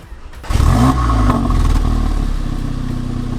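A 600bhp Volkswagen Golf R engine cranks and fires up with a sharp rising rev, then settles into a loud, rough, rumbling idle close by, with no talking over it.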